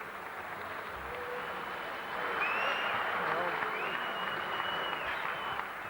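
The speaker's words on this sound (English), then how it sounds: "come on, give him a warm applause." Crowd applause at a boxing fight night in Australia, a broad steady wash of clapping and cheering that swells midway and holds, with some whistles and voices mixed in.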